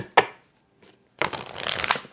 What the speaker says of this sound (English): I love a good bridge shuffle